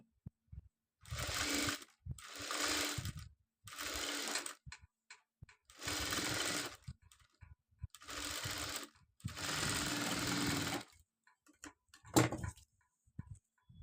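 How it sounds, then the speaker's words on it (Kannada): A sewing machine stitching a school uniform runs in repeated loud bursts of rapid mechanical whirring, each lasting around a second, separated by brief pauses with small clicks and handling noises. "ಈಗ ಉಲ್ಟಾ ಇಟ್ಟು ಸ್ಟಿಚ್ ಮಾಡ್ತಿದ್ದೀನಿ"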